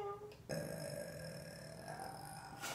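A person lets out a long, deep, close burp that starts abruptly and rumbles on for over two seconds, with a short lead-in sound before it.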